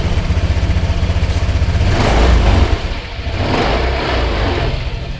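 A Honda Vario scooter engine runs steadily close by, with a low rhythmic putter that swells in revving bursts and then settles back.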